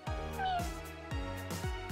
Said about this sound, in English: Cat? Is there a cat? Where's the cat? Oh, it's Mew!